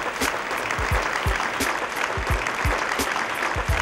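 Audience applause fills a theatre during an Adriatic festival evening concert: steady, dense clapping from a large crowd, close and continuous throughout.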